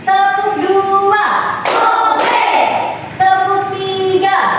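In a classroom clapping game, a couple of sharp hand claps ring out over a steady tonal music bed.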